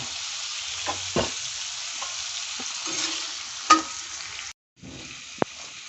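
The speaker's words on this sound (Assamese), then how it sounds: "এতিয়া হালধিখিনি ভাজি থ'ব লাগিব" Turmeric frying in a pan for pork curry, a soft sizzle with scraping spatula strokes and a few clinks, fairly quiet with a brief gap near the end.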